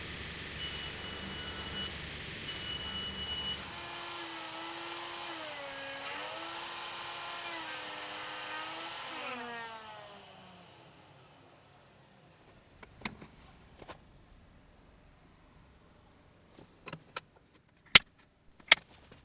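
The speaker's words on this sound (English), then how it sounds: "This was my first time using this Hinge Forstner bit, and it cuts very well." A drill fitted with a hinge Forstner bit bores cup holes for cabinet door hinges, giving a steady whirring tone that dips in pitch under load and then winds down, followed by scattered sharp clicks and taps.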